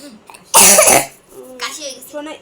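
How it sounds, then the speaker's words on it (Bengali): A child lets out one sharp, loud cough close to the microphone, followed by softer voices talking nearby. "কাশি হয়ে গেছে"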